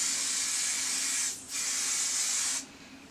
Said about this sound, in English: I'm going to spray my hair with a little bit of this humidity spray.